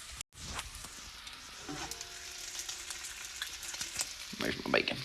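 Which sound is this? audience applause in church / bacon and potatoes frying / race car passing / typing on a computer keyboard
bacon and potatoes frying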